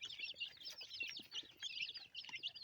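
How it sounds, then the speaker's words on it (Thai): Red junglefowl chick, from a domestic decoy hen carrying some junglefowl blood, peeps in a rapid, continuous stream of high, thin chirps, several overlapping and fairly close, with no voices. "ไอ้ที่เห็นนี่คือเป็นลูกไก่ป่า"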